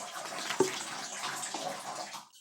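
Water runs steadily from a tap, a soft, continuous hiss and splash that stays fairly quiet and even before cutting off at the end.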